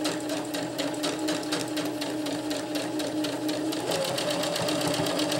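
Up close, a sewing machine hums with a rapid, even stitching rhythm while sewing the drawstring channel of a stuff sack, running continuously with a slight change in pitch near the end.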